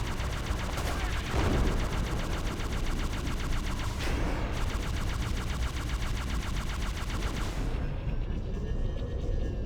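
Sustained, loud automatic gunfire from Halo: Combat Evolved, rapid bursts running continuously with occasional heavier booms, close and dense throughout with no pauses.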